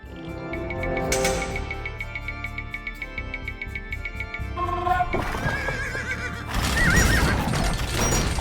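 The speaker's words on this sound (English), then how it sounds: "These horse archers will help you in your battles." Horses whinny and neigh in Age of Empires II over a rapid ringing, bell-like game sound, with hoofbeats and a busy backdrop of game effects.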